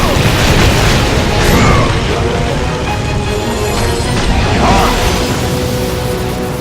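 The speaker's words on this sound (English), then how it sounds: "They explode." Repeated booming explosions in God of War 2, a dense continuous barrage of blasts with two louder swells, loud and close, with some voice underneath.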